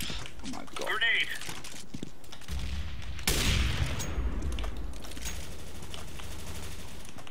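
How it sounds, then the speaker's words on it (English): A grenade goes off during a competitive Counter-Strike ESEA match: after excited voices and scattered game sounds, a sharp blast hits and leaves a low rumbling tail, with talk continuing around it. "Grenade!"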